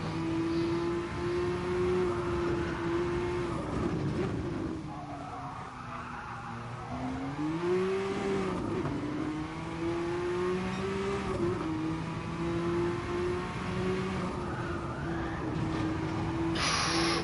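A Group 1 race car engine in the racing game GT Sport holds a loud, steady drone that rises and falls through gear changes and revs, with tire squeal and skidding mixed in throughout.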